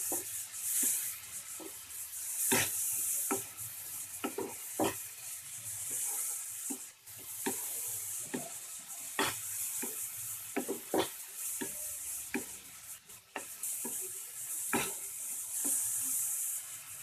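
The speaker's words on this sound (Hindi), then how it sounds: "ये देखिए थोड़ा भून चुका है, तो मैं इसमें टमाटो डाल दूंगी।" Pav bhaji vegetables roasting in a pan with tomatoes, a steady sizzle and hiss broken by frequent scraping and tapping of a spatula against the pan.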